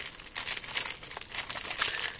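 Thin plastic bags from a fake Lego J-10 plane set crinkle and rustle in close, irregular bursts, with no talk.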